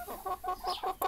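Young adult hens, not yet laying, clucking close by in a short burst of several soft, throaty calls, with one sharper note at the end.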